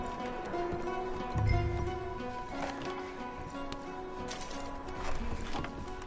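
Horses moving in the video game Red Dead Redemption, with a steady stream of hoof clip-clops at moderate distance over a tonal game-music background and a few louder thuds along the way.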